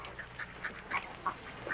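Several ducks quack in a quick, uneven series of short nasal calls, fairly faint and slightly distant, with no talk.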